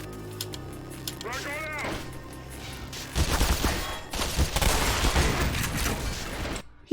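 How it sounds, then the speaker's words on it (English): A frag grenade explodes in Black Mesa with a heavy roaring blast that rumbles on for several seconds amid game noise, preceded by quieter effects and a warbling tone, and ending in an abrupt cut. "He just got killed by his own frag grenade."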